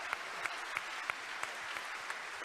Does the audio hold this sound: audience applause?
yes